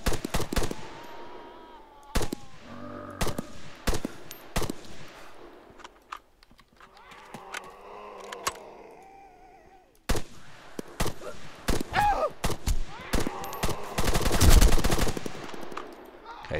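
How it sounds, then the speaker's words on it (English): Gunfire in Arma 3 rattles through a zombie sandbox, with sharp single shots and short automatic bursts coming in irregular clusters, some near and loud and others more distant, with a voice talking in between. "They're all running away from me shooting now."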